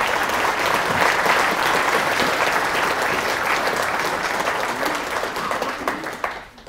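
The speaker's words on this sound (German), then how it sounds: "einen Applaus an ihn" A seated audience at a one-day meeting applauds in a dense, loud, sustained wash of clapping that holds steady, then thins and fades out at the end.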